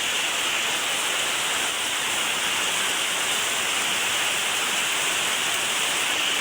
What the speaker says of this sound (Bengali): এই পরিমাণ বৃষ্টি নামতে থাকলে তো